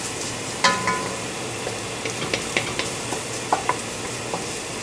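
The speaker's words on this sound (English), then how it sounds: "I want the onions to cook a little bit more." Onions sauteing in a pan while chicken tikka masala is made, a low steady sizzle with scattered clinks and scrapes of stirring, fairly near and without talk.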